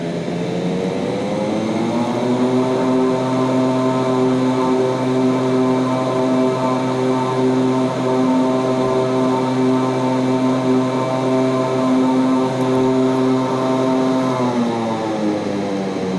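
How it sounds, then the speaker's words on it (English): Simulated De Havilland Dash 8 Q400 turboprop engines roaring in reverse thrust after a hard landing in Seattle, a loud steady propeller drone with strong tonal hum that swells, holds for about twelve seconds, then winds down. "Thrust reverse."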